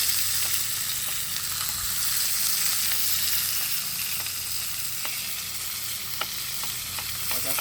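Onion and corn fry in a pan with a steady, close sizzle. Soft scattered clicks come from stirring, and no one talks.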